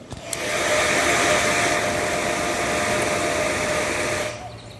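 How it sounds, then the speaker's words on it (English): The fan of an ASMOKE Essential pellet grill whirs continuously with a loud, steady, breathy roar and a faint hum underneath. It starts with a few knocks and then runs evenly for about four seconds before cutting off. "so that's the fan right there."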